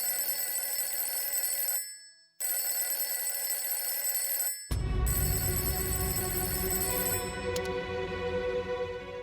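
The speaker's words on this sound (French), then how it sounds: "Ah, le téléphone sonne." A telephone rings loudly in a domestic drama scene, sustained electronic trills broken by two short pauses, then the ringing continues over a heavier low rumble, with no voices.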